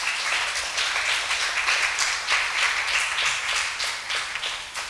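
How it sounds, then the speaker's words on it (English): Steady applause from an audience at a Sunday feast gathering, honoring devotees who distribute books; dense continuous clapping close up, with no talk over it. "Have a big round of applause for these devotees here."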